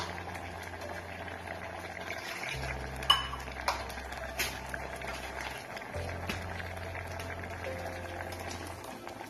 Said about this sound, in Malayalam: ഇത് നല്ലപോലെ ഒന്ന് തിളക്കട്ടെ.